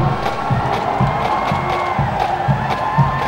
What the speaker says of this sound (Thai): ขอเสียงปรบมือให้กับรำเ พยแมนหน่อยครับ